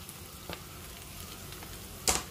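Catfish is stir-fried in a hot pan with kaffir lime leaves, red chilies and fingerroot, giving a close, continuous sizzle. Two brief scraping stirs of the spatula break through the frying.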